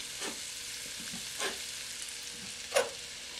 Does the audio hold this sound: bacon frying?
yes